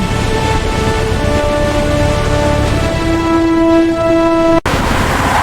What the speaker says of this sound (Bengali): দেখেন, দূরে ট্রেন আসছে